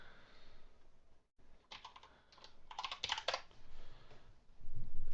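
Quiet typing on a computer keyboard, a scattered run of soft key clicks in short bursts with a brief pause near the start and some low background noise toward the end.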